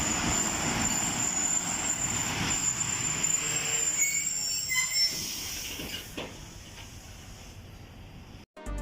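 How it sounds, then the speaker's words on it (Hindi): A train at Bin Qasim Railway Station near the sea port in Pakistan rolls through with loud, drawn-out wheel squeal and rail clatter that gradually fades toward the end, with no talking. "ये ट्रेन भी यहाँ चंद मिनट स्टॉप करेगी"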